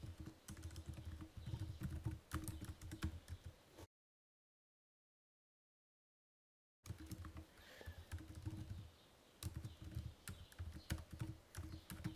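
Quiet clicking of a computer keyboard as code is typed into a JavaScript file, irregular keystrokes in bursts with a silent gap in the middle.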